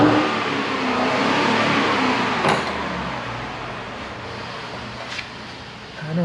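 The engine of an abandoned 1975 Chevy Vega Cosworth Twin Cam runs and revs in a steady broad drone, close and fairly loud, with a couple of brief clunks and a small rise at the end.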